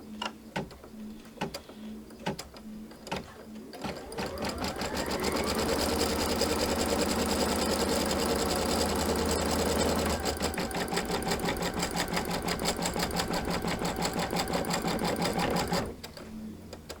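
A sewing machine stitches quilt fabric pieces for a pinwheel patriotic quilt block pillow, starting with a few short taps and then running in one steady, loud, continuous stitching burst for about ten seconds before stopping.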